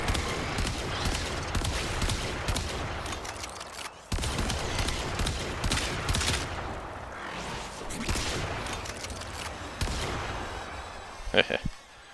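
Rapid bursts of Scourge gunfire from the Warframe video game roll on through the clip, dense and loud with brief breaks, ending in a few sharp separate shots.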